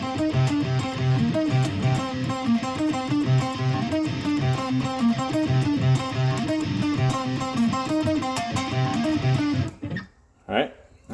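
Heavily distorted electric guitar chugs a fast, palm-muted metal riff, loud and continuous with a driving rhythmic pulse, ending abruptly near the close, where a brief voice is heard.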